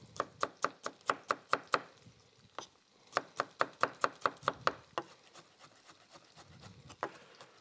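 Rapid knife chopping of garlic together with parsley on a cutting board, two bursts of about eight crisp, evenly spaced knocks each, close and loud, with a lone chop at the end and no talking.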